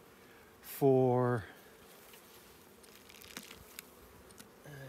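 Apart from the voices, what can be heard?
honeybees buzzing in an open hive during inspection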